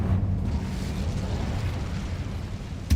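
A fire spell cast in Hogwarts Legacy gives a sustained, dense low rumble that builds like a blast, followed by a steady roaring wash of flame and a sharp burst at the very end. No one speaks over it.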